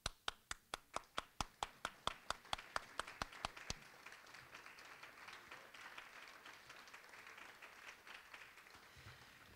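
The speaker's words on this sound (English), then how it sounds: "look at each other so we can give you a round of applause" Applause at a caregiver conference keynote starts with a run of slow, loud, evenly spaced claps from one nearby person, then spreads into softer, scattered clapping from the wider audience.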